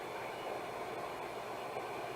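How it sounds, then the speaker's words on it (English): A model train runs on a helix layout, giving a steady, close rolling rumble with faint rhythmic clicks from the track joints. "We'll just let that train run its helix"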